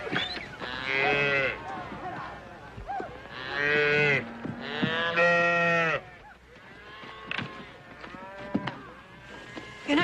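Cattle on a ranch moo loudly and repeatedly, with several long, drawn-out calls overlapping across ten seconds, heard close by.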